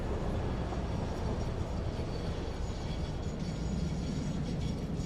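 A train rolls along rails in the video game Satisfactory, producing a steady, dense rumble and rushing noise that runs continuously at moderate volume with no talking.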